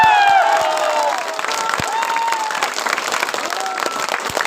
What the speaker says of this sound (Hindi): तालियां और भी जोरदार होनी चाहिए।